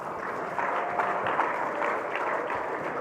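Audience at a Bitcoin conference applauding a panel, a softer, somewhat distant patter of clapping that stays even across a few seconds.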